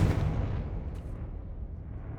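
Fiery Confringo spell blast in Hogwarts Legacy, a loud booming burst at the start that rumbles and fades away, with no voices.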